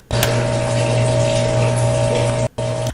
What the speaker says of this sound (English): Sound like water running.